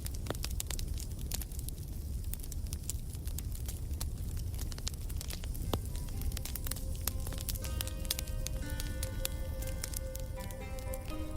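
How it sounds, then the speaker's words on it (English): Bonfire flames burning outdoors with steady low roaring and dense crackling pops throughout, with a few brighter tonal squeals from the burning wood toward the end. "before I put out the flames and amble back into shelter"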